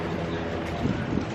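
Strong wind buffets the microphone in a steady low rumble outdoors at a Buc-ee's gas station, with faint murmuring underneath throughout.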